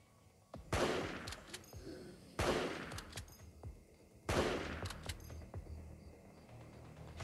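Gunfire in the survival shooter LifeAfter comes as three separate loud shots a couple of seconds apart, each with a sharp crack and a decaying tail, plus a few faint clicks and small sounds between them.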